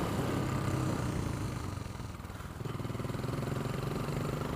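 Royal Enfield Continental GT café racer motorcycle with a performance muffler, its engine thrumming steadily close by with a brief dip in level midway before the pulsing exhaust note resumes.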